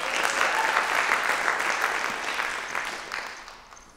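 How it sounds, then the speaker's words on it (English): An audience at a spoken-word and poetry event breaks into applause, a dense clatter of many hands clapping close and full before slowly tapering off near the end; no talking. "Give yourselves a round of applause for being here."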